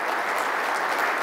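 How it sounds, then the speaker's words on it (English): A conference audience at a Nutanix tech event in Vienna bursts into dense, steady applause that fills the whole short moment at full strength, with no voices on top. "So a round of applause for all of you who actually participated in this thing."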